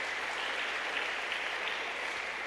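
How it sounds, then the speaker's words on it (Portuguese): A church congregation claps together in steady, dense applause that holds evenly from start to finish, with no voices breaking through. "Vamos bater uma salva de palmas para Jesus."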